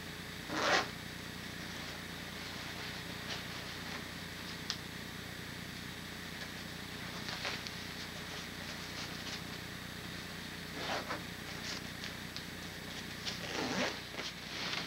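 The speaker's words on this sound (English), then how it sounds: "You can reach behind you, grab the two zips, pull them open and grab what you need and zip it up again fairly easily" Zippers on a Marmot Kompressor Summit backpack are pulled open and shut, a few short rasping zips spread out over a quiet, hissy background.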